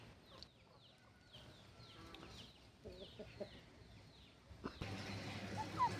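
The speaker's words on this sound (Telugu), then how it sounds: "ఇక మంచి మంచి పెట్టలు ఇవి," Black hens in a farm coop give soft, faint, scattered clucks, with some background rustle and a louder noisy stretch near the end.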